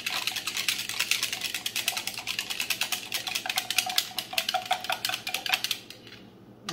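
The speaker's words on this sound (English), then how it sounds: "I'm just going to whisk this all together." A salad dressing with pepper and date syrup is whisked briskly in a bowl, giving a rapid, even clatter of metal tines that lasts several seconds. It stops abruptly near the end.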